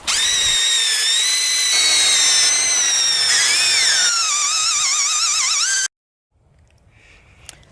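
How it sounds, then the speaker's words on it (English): A power drill whines loudly and continuously, its pitch rising and dipping as it bites in, then stops abruptly before faint handling noises. "That took a little over an hour to drill out all of these holes."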